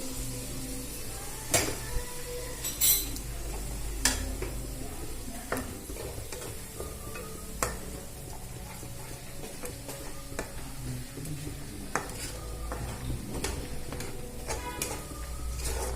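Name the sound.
yogurt frying with cashews in a pan, stirred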